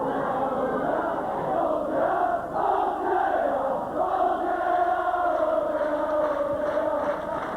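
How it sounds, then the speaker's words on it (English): Hull KR rugby league supporters cheer their team from the popular side of the ground during a St Helens match, a loud, sustained crowd roar with rising and falling chants. "a rather large sprinkling of Hull KR spectators over on the popular side here, as you can probably hear, cheering the team on"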